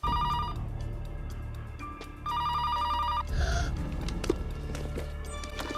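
A house telephone in the film Home Alone 3 rings in repeated electronic bursts, a pause between rings, with faint shuffling and movement in the background.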